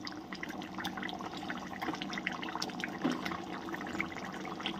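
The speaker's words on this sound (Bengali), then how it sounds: "এবার আমি মাছগুলোকে দিয়ে দেবো।" Fish pieces go into a pot of boiling water with already-cooked potatoes for a lunch dish, and the liquid bubbles and gurgles steadily throughout at moderate volume.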